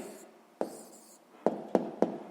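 A pen writes an answer by hand during a sixth-grade maths exercise, giving a soft scratch followed by four crisp taps and strokes on paper, close and quiet.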